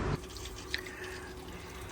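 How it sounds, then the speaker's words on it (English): Condensate water from a gas boiler pours out steadily in a continuous close trickle with faint dripping, no voices present. "that is pouring out the condense"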